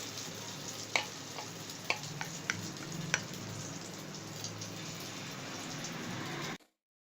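Omelette egg mixture for a bread omelette fries in hot oil with a steady, close sizzle and a few sharp pops and ticks early on, then cuts off abruptly at the end.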